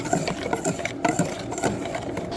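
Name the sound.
whisking eggs and egg yolks with sugar and cornstarch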